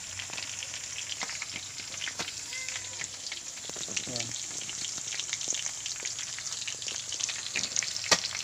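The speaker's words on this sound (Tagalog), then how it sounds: "Pinrito ko siya sa malaking kawali." Steady sizzling of galunggong (round scad) frying in a large pan, a dense crackling hiss throughout with occasional sharper pops, and a brief spoken word.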